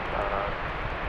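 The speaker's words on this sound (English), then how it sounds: "Spirit Airlines taking off." A Spirit Airlines airliner takes off at night at DFW Airport, its engines a broad, steady roar at moderate distance, dense and even for about a second with no distinct breaks.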